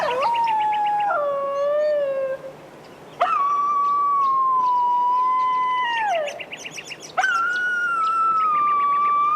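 A wild dingo on Fraser Island howls to call its family: three long, loud, close wailing howls, each sliding down at the end, with short gaps between them and no other voices.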